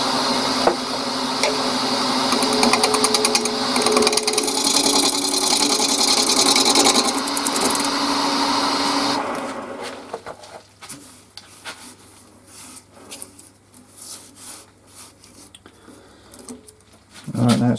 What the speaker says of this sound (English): So I should be sticking with a 1/2-inch bowl gouge for a minute.